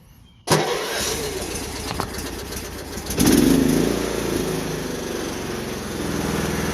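Craftsman lawn tractor engine starting: a sudden loud catch, then a steady close idle with a brief rev surge partway through, running alone without talk.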